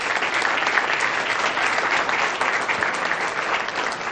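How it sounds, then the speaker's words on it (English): Dense, continuous applause fills a room at a police officer swearing-in ceremony, even and loud throughout with no voices over it. "A round of applause."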